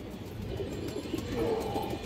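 A silver bagha female pigeon gives a short, soft coo close by, a low throaty murmur lasting barely two seconds against quiet background hiss.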